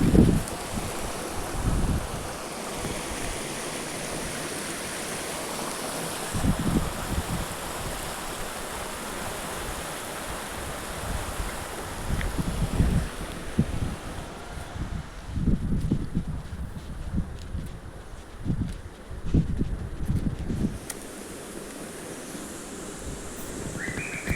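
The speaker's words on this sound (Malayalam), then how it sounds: "ഈ തോട്ടിലൂടെ ഒഴുകി പോകുന്ന വെള്ളം നല്ല സൂപ്പറാണ്" Water flows steadily in a rushing stream, with gusts of wind buffeting the microphone and low rumbles coming and going.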